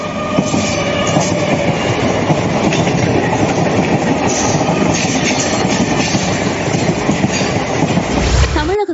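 Suburban trains crawl slowly along the tracks, a steady loud rumble of wagons with rhythmic clickety-clack of wheels running throughout, ending in a brief low thump.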